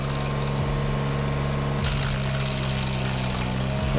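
A stump grinder's engine runs steadily and loudly throughout, a continuous droning hum with a brief shift in load partway through as the machine works a stump.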